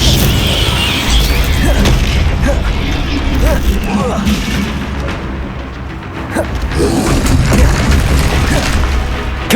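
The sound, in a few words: Confringo spell explosion in Hogwarts Legacy video game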